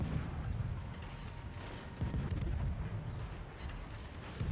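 Naval guns of the Kitakaze destroyer firing in World of Warships, a rolling barrage of heavy booms and rumbling blasts that pounds on continuously, with a fresh burst landing midway.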